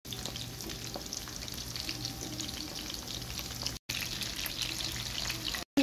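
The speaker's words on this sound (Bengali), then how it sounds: "এখন আমি ভেজে নেব। এটা মোটামুটি গরম হয়ে আসছে। এখন চিকেন উইংসগুলো দিয়ে দেব।" Marinated Korean chicken wings fry in hot oil, giving a dense, continuous close-up crackle and hiss that stays loud throughout, with two brief dropouts.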